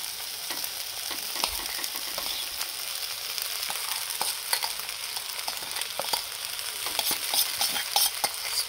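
Sabudana soaked for about three hours goes into a hot pan for khichdi and is stirred, a soft continuous sizzle broken by repeated light scraping taps of a spoon against the pan, close and quiet, with no talking.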